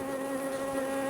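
Honeybees drone steadily at an open hive during an inspection, a close continuous buzz with strong even harmonics and no voices over it.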